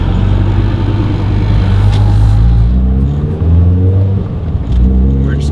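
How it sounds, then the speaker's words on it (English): Mazda Miata NC with a 2.5 engine swap driving around: a loud, close engine drone with rising and falling revs and shifting pitch, plus someone talking over it briefly. "All right, now I'm gonna do a little spin around here."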